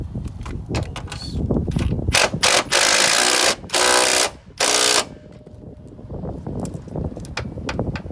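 An impact wrench hammers a 14 mm nut tight on car exhaust headers during a mount installation, loud rattling bursts in three or four long runs with ratcheting clicks before and after.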